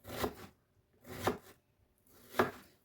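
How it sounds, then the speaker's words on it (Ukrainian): A knife chops an onion on a board in three separate bursts of quick strokes, close and moderately loud, with short quiet gaps between. "а поки ріжу цибульку"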